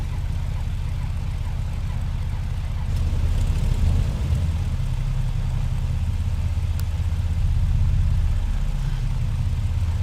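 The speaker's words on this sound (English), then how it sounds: "Start the left engine." The left engine of a BN-2 Islander aircraft in Microsoft Flight Simulator starts up, a steady low rumbling drone that swells partway through and stays loud and continuous, with no talking.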